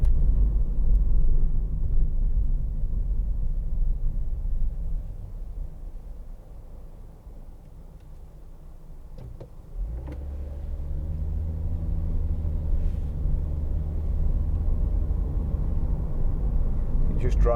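A 2014 Honda Jazz 1.4 i-VTEC EX CVT hatchback drones with a low engine and road rumble while driving, easing off and then building again under steady talk in the cabin.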